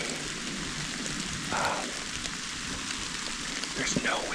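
Steady rain patters through a stand of oak woods, a continuous soft hiss with scattered drips on leaves close by, and faint background rumble beneath it.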